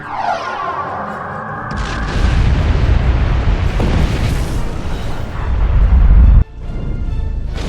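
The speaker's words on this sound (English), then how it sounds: "Fire everything. Photon torpedo." In the game Star Trek Online, a photon torpedo launches with a rising sweep and then bursts into a loud, rumbling explosion. The blast roars on and cuts off abruptly near the end, with no voices.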